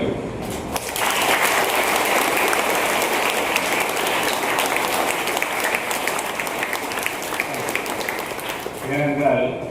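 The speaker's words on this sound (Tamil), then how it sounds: "இந்த இயக்குநர்களுக்கு நல்ல ஒரு கரகோஷம் கொடுங்கள்." Children and parents at a school's Class 11 opening ceremony applaud the directors, a sustained wash of hall clapping holding steady for several seconds before a voice comes in at the end.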